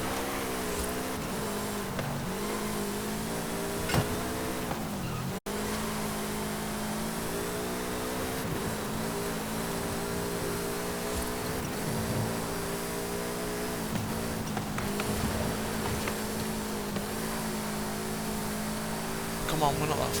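A car driving in Forza Horizon 5 during a stunt driver event, its engine note droning and shifting steadily throughout while someone talks over it.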